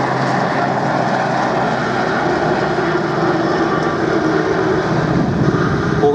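Loud, continuous engine drone of a Leonardo Merlin helicopter passing overhead at an air show, a steady rumbling roar that fills the whole clip without pause.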